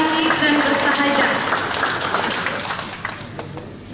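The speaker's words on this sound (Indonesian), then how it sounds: "Kita beri tepuk tangan yang selalu cantik dan bersahaja" Applause from a crowd at a gathering honouring an elderly woman, a dense wash of clapping that starts full and gradually thins and fades toward the end.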